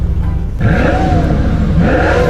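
A car engine revs up twice, the pitch rising and falling in loud, close surges over a constant rumble.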